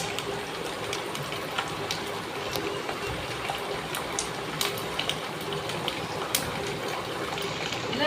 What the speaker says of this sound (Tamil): புளியை ஊற்றிடுங்க இருக்கு நீங்கள் பயப்பட வேண்டாம்